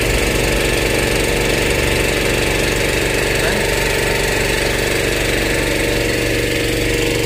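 Engine of an ultra-high-pressure car wash machine running at a steady, loud, continuous drone with a slight knocking throb and no voices.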